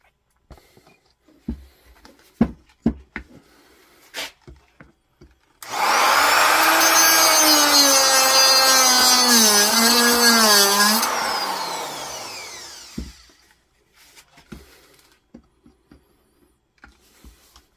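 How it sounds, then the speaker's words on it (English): Dremel rotary tool cutting into a Yamaha Virago motorcycle air cleaner, a loud, close, high-pitched whine lasting about seven seconds that dips in pitch as it bites into the material, with scattered handling clicks before and after. "It's so big, my Dremel tool."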